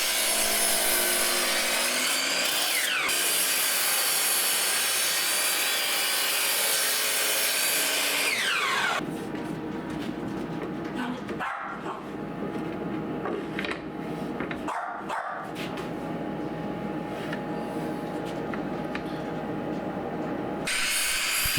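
Pneumatic power tools cut and shape oak for bookcases in an Amish workshop, with a continuous loud rasping, sawing drone that changes tone partway through and runs alone without pauses.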